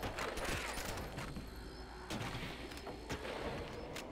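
Video game gunfire cuts down zombies in a series of sharp cracks and bursts, with several distinct shots spaced irregularly over a rumbling, noisy background.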